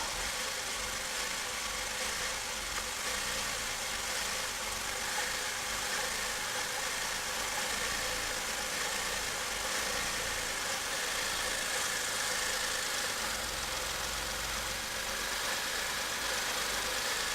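A 2002 Porsche Boxster S engine idles roughly with a misfire, a steady, continuous mechanical hum with uneven vibration running throughout, close and fairly loud, with no talking.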